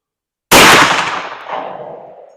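A single loud shot from a 32 gauge shotgun firing a Mr. Hollow Point .510 slug at an outdoor range, a sharp close blast followed by a long decaying echo rolling away over about two seconds.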